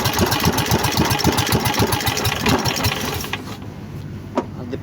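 A small engine chugs loud and near with a rapid, even pulsing rhythm after starting on a single pull, then the running sound thins and drops toward the end.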